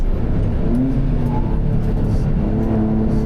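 A Suzuki Alto HV36V race car drives around the Tsukuba circuit, its engine droning steadily with a rising rev, loud and close from inside the cockpit.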